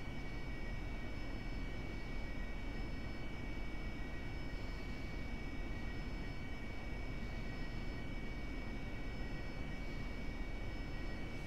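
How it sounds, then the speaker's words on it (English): An aircraft taxis back to parking in the DCS flight simulator game, giving a steady, continuous engine drone with a faint high whine that holds evenly throughout, with no voices. "Taxiing back to parking."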